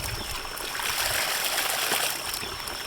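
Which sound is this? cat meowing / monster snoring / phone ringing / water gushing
water gushing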